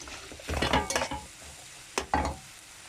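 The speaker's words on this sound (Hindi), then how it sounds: "ये जो सब्जियां हैं ये हल्की फुल्की फ्राई हो जाए" Vegetables for a keema stuffing are lightly fried in a pan, heard as soft sizzling broken by a few quick bursts of stirring and scraping, fairly quiet and close.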